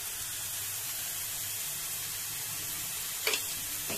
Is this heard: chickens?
no